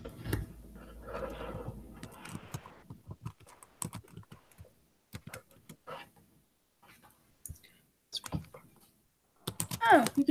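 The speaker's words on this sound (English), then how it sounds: "I'm typing something to Reese." Scattered keyboard clicks and typing taps, some in quick bursts, mixed with talking and brief pauses of near silence.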